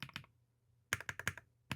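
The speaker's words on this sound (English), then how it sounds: "if you like a clickety-clackety keyboard, this one's going to do it for you" An EPOMAKER Split70 split keyboard clacks under a short burst of keystrokes, then falls silent before a quick run of sharp, close taps and one last key hit.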